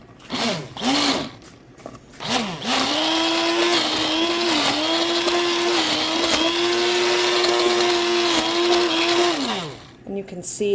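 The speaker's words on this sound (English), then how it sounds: "I am going to give this a really good blend and then put it back on to simmer for another 30 minutes." A hand blender purées hot simmering pizza sauce, whirring steadily and loudly at close range for about seven seconds, with short start-up bursts before it and a quick stop at the end.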